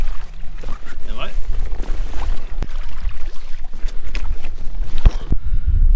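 Water sloshes and splashes against an inflatable kayak as a paddle dips, with wind noise and people talking nearby.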